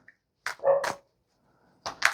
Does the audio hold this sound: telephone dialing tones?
no